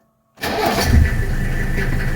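A cold 1984 Mercedes 300D diesel fires up after a short silence, catching almost instantly and settling into a steady, loud, clattering idle, heard close with no voices.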